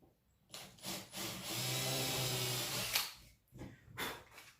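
A power drill bores a through-hole in an MDF template, a close whirring grind lasting about two seconds, framed by short scraping and handling knocks of the wood.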